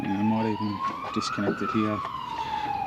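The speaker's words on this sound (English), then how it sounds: "Sorry about the sirens, we live near an ambulance station." A wailing ambulance siren rises and falls in the distance, running steadily beneath a man's nearby speech.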